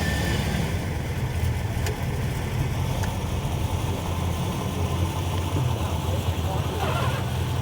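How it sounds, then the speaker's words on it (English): Old Chrysler starter on a 1967 Dodge Charger, followed by the engine running with a steady, loud, close low rumble that continues throughout. "I love the sound of the old Chrysler starters."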